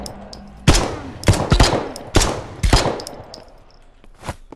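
Gunfire in the first-person shooter Potentia: four loud, close shots in an uneven burst, each with a sharp attack and a trailing tail, followed by a fainter fifth report.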